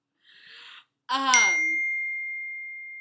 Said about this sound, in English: Sorry, my phone keeps going off.